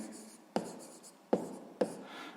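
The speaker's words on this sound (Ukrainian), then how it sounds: "Записуємо відповідь." Pen writing down a math answer on paper: soft scratching strokes with three or four sharp taps of the pen, close and quiet, no voices.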